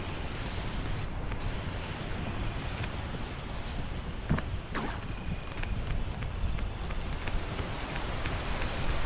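Steady rain in the video game PEAK, a dense, even hiss of drops pattering on surfaces throughout, with a few louder taps and light footsteps, no talk.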